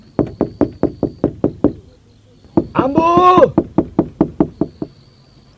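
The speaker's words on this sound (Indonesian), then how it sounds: "saya akan ketuk dulu pintunya." Knocking on a wooden door: two quick series of sharp, evenly spaced raps, close and loud, separated by a pause, with a voice calling out briefly between them.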